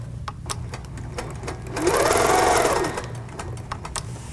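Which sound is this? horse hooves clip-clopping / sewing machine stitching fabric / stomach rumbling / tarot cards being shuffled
sewing machine stitching fabric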